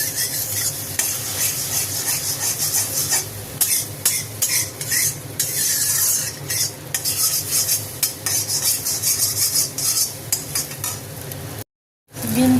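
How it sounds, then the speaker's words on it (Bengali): Egg frying in a pan and stirred into small scrambled bits, with steady loud sizzling and repeated scraping and clinking of a utensil against the pan, no voices, cutting off briefly near the end. "একদম ঝুড়ি ঝুড়ি করে ভেজে নেব।"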